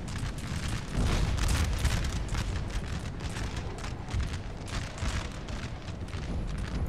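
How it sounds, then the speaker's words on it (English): Artillery opens fire during a Napoleon: Total War battle, a dense, continuous rumble of overlapping booms and crackling blasts that stays busy and fairly distant across the whole stretch, with no voices. "Their artillery's opening up."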